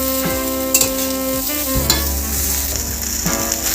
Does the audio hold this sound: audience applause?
no